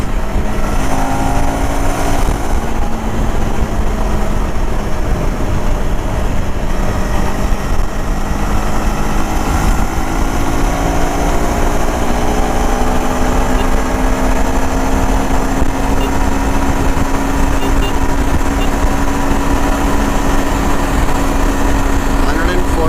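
A 2025 KTM 390 Adventure motorcycle cruising on the highway at just over 8,000 RPM, a loud continuous engine drone with rising tonal whine under heavy wind rush, steady throughout.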